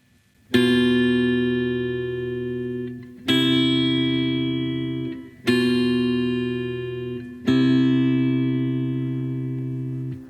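A guitar plays four sustained notes, each ringing out for a couple of seconds before the next, with a bright, slightly distorted tone.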